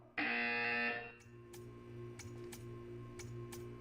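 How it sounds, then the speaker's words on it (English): A loud, steady electronic buzzer from the Portal 2 video game sounds for about one second. Sharp periodic clicks and a low background hum follow. "When you hear the buzzer, stare at the art."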